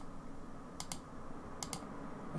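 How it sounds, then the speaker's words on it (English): Two quick pairs of crisp mouse clicks, close and light, stand out over a steady low room hum while blur is applied in hair strand editing software. "I'm just going to click blur a few times"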